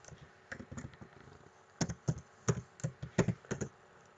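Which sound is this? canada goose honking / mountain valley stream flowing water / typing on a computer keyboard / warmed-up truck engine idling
typing on a computer keyboard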